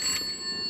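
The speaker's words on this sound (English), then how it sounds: "Okay, the phone's ringing again." Telephone in a TV studio ringing in a short, bright, high electronic trill, faint behind room tone, with no voices.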